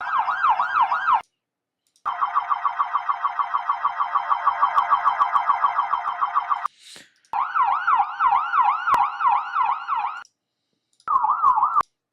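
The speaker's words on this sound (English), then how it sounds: "we're going to throw this siren in, try to build that cityscape" A loud wailing siren, live-coded in Sonic Pi for a cyberpunk cityscape, cycles rapidly up and down, cutting off abruptly several times with brief silences between bursts.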